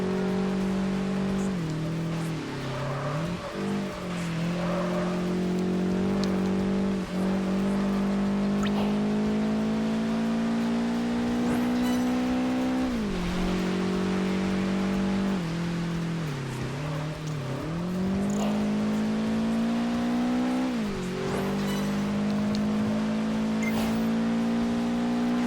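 A race car engine from Project Gotham Racing 4 drones steadily at high revs during a hot lap, its pitch dipping and climbing again with each gear change, loud and continuous throughout.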